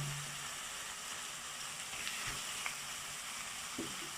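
Chopped green chilli and crushed ginger sizzle in a hot pan, a steady soft frying hiss with a few faint clicks and stirs, no voices.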